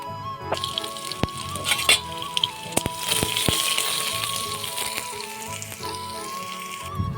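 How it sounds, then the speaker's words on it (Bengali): Cooking oil sizzles in a wok left heating on the stove for a long time, a steady close frying hiss with sharp crackles and pops, heard alone without talk. "কড়াইটা অনেকক্ষণ ধরে বসিয়ে দিয়েছিলাম অনেকটা গরম হয়ে গিয়েছে তো তেল দিয়ে দিলাম"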